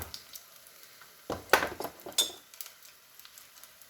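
Eight corn fritters sizzle in a pot of hot oil under soft crackling, while utensils clink and clatter against the pan in a few brief bursts nearby.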